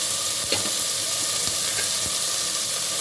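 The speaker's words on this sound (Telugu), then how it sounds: "సాల్ట్ వేస్తున్నాను టమాటా ముక్కలు కూడా ఇప్పుడు వేస్తే మగ్గిపోతాయండి" Tomato pieces and salt cooking in a hot pan give a loud, steady sizzle and crackle, with a few soft stirring scrapes scattered through it, close up and with no voices.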